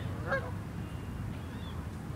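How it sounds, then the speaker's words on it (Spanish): Geese honk a few times, distant and faint, with a steady low rumble of background noise throughout. "Mira esos gansos"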